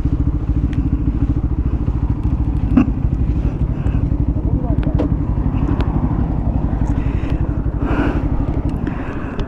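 Pulsar and Yamaha R15M motorcycles roar through a drag race, a loud continuous engine drone with rapid rhythmic pulsing and occasional clatter.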